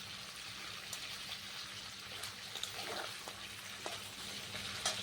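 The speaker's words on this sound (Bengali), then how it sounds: "আস্তে আস্তে ভাজতে হবে চিকেনটা।" Chicken pieces frying slowly in oil in a wok over a very low gas flame for Bengali butter chicken, a soft steady sizzle with faint crackles and a few small pops throughout, no voices.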